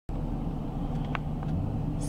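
Road traffic heard from inside or beside a car, a low steady rumble of engines and tyres with faint passing sounds and no talk.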